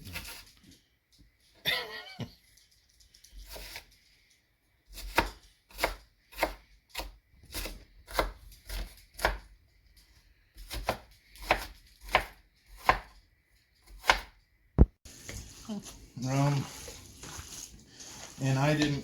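A knife chops meatloaf ingredients on a cutting board in a steady series of sharp, separate knocks, with a brief voice near the start and talk taking over at the end.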